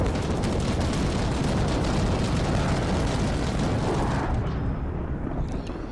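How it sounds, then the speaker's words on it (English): A video game airstrike in Armored Warfare on PS4 lands as a loud, continuous explosive rumble that rolls for about four seconds, then thins into a fading tail near the end. "I think this is a bad airstrike"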